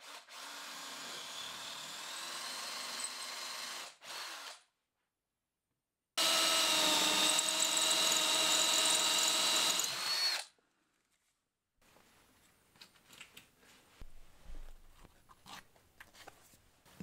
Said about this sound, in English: I can get the first holes drilled out for the plugs